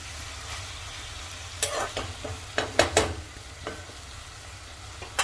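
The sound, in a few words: potatoes and fenugreek frying in mustard oil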